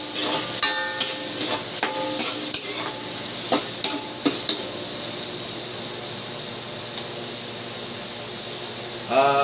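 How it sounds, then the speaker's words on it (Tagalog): Santol fruit sautéed with white onion and tomato in a pan, close metallic stirring and scraping knocks in an uneven rhythm over a soft sizzle, then a quieter stretch and a brief rise in noise at the end. "Itong santol, igigisa mo natin itong santol para maluto siya"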